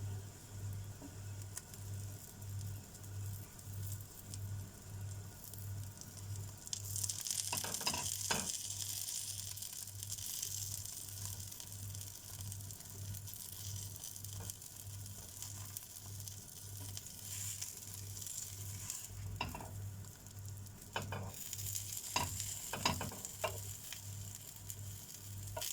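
A folded breakfast quesadilla sizzles steadily in a pan, a soft continuous frying hiss with occasional crackles and a brief scrape, heard close and quiet over a low steady hum.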